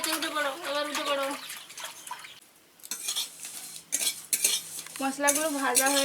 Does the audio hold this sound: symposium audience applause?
no